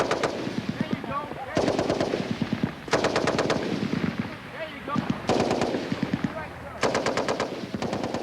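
An M60 machine gun fires rapid bursts during 1990 Army basic infantry training, with several sharp, loud volleys separated by short pauses and a faint voice in the background.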